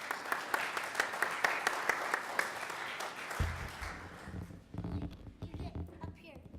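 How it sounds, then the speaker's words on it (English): A school talent show audience claps in a quick, rhythmic beat for a young singing group, then the clapping fades as children and adults start talking nearby. "let's give our future a round of applause"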